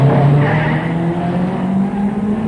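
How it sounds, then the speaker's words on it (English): 1950s Formula One racing cars, a Ferrari formation lapping a Gordini, scream past at high speed at the Reims circuit, a loud sustained engine roar that fades slightly as they go by. "the Ferrari formation as they lap Pilet's Gordini in an impressive demonstration of high speed"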